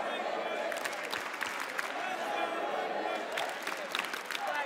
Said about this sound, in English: The crowd buff, the crowd support.